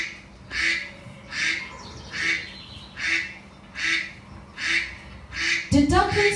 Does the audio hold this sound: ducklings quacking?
yes